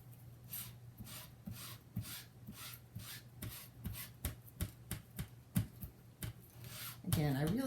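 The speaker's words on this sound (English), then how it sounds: "I'm going to rub the ink in." Distress oxide ink rubbed by hand onto a gel press card, a soft, papery scrubbing in regular strokes that quickens into firmer rasps, faint and close against a low background hum.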